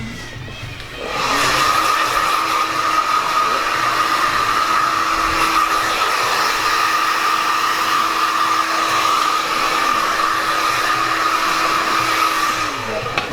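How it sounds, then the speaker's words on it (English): A barber's blower blasts cut hair off a client after a classic fade and dense beard shape-up in a barbershop: a loud, steady whooshing whir starts after a second and runs unbroken for about twelve seconds. "I'm just going to blow the hair off of the client as well."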